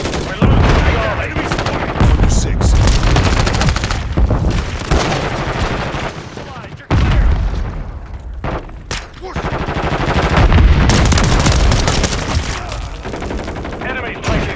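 Rapid pistol fire from dual-wielded akimbo handguns in a military first-person shooter match, loud bursts of quick cracks in long strings broken by short pauses, with game voice callouts and explosions mixed in.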